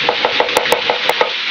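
A knife finely chopping an onion on a board, a steady run of quick, crisp taps at an even rhythm, close and clear with no voices.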